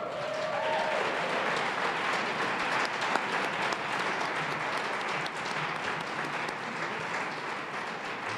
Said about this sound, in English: We have a round of applause for all of this year's nominees, finalists, and winners.